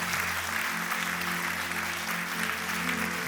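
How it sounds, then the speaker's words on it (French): An audience applauds the performers at the close of a Christmas show, with steady, dense clapping over a low, sustained hum. "Peut-on applaudir encore beaucoup plus fort tous ceux et celles qui ont"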